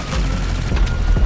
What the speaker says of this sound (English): What was that explosion?